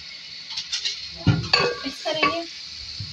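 Chopped thick green chillies hitting a pan of spiced aloo baingan curry, with a few sharp sizzling bursts and stirring scrapes under a steady frying hiss.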